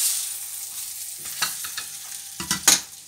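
Fish fillets brown in a hot frying pan, a soft continuous sizzle with a few scraping stirs and clinks of a utensil toward the end; no one speaks.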